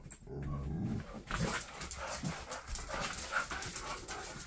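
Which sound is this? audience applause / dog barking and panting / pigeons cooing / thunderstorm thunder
dog barking and panting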